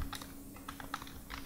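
Light, quick typing on a computer keyboard, a loose run of soft key clicks, close by and fairly quiet, with no talking.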